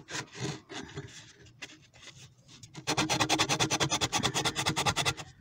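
Hand sanding of wood on a lap desk being repurposed, close and alone: irregular scraping strokes at first, then a fast, steady run of loud rhythmic back-and-forth rubs.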